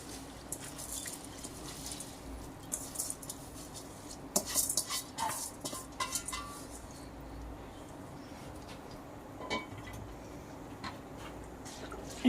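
Soaked, rinsed basmati rice tipped into a pot of Dindigul and Chettinad style chicken biryani, giving a cluster of soft patters, clinks and scrapes near the middle over a steady low kitchen hum.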